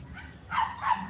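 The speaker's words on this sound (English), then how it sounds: "Actually, that dog is noisy." A house dog at a home that also keeps ducks and quails gives two short barks in quick succession, moderately close, over a faint background hum.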